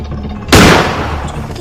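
A single loud gunshot in the video game Granny car escape, a sharp close blast with a brief decaying tail over low background noise.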